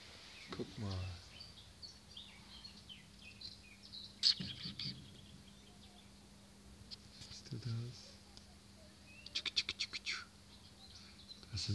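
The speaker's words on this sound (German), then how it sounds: "Sind alles kleine Vögel drin, die haben gerade ganz laut gechiept" Small birds chirping in short bursts of high, thin tweets from a nest close by, scattered across the moment alongside quiet rustling and a faint voice.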